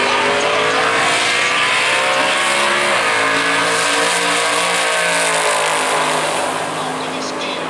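Loud, high-revving drag racing car engines roar continuously at a raceway, rising in pitch as they launch and accelerate, then fading slightly at the end.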